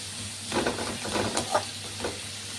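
Onions fry in a pan until golden, a soft sizzle broken by a few brief spitting crackles, close and fairly quiet.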